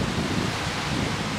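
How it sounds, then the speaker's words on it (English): Rain falling outdoors, a short stretch of steady, dense hiss and patter at an even level with no voices over it. "Oh, it's raining now."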